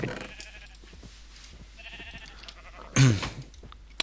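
A blocky video-game cow in a MagiTech modded world lets out one loud, close moo with a wavering pitch over quiet game ambience and faint clicks.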